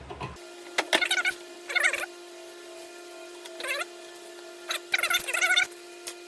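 A Phillips head screw driven in with a powered driver while servicing the rear brakes of a 2003 Honda Accord, heard as four or five short whirring bursts of varying length over a steady background hum, close and fairly loud.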